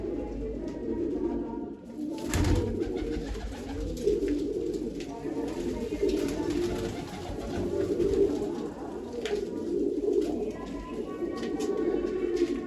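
Pigeons in a home loft coo in soft, low, rolling murmurs that run almost continuously, close by, with a few brief sharper knocks breaking in.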